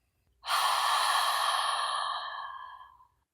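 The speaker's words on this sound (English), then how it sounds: "Breathe in. Breathe out." A single long, audible exhale during a guided breathing exercise: a breathy rush of air that starts strongly, then slowly fades to silence, close and alone.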